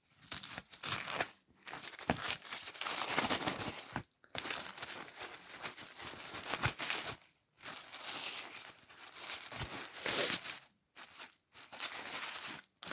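Wrapping paper on a package being torn open during an unboxing, with close crinkling and ripping in several bursts separated by short pauses.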